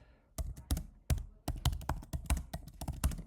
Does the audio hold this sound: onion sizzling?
no